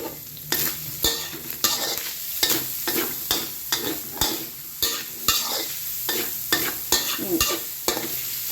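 Minced pork, shrimp, holy basil and chili stir-fried in a wok, with a steady sizzle and repeated scraping strokes of the spatula roughly every half second, close and loud, with no talking.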